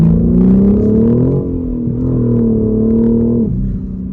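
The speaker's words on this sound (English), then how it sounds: "Let's roll on the throttle here." A 2022 BMW M4 manual engine revs hard and loud under throttle, a steady deep roar with rising pitch, close by, easing off near the end.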